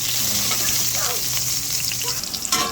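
Onions sizzle steadily in hot oil in a pan for corn soup, a loud continuous hiss with faint stirring scrapes and a brief clatter at the end.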